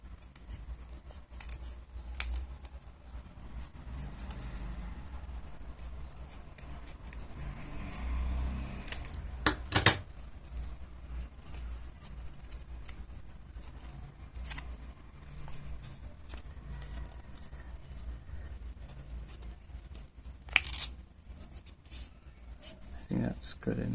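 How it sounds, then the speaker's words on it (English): Scissors cut paper to shape a paper butterfly knife, a string of short crisp snips and rustles close by, paper shuffling in between, with a voice speaking intermittently. "And finally I need to make the cut at the top."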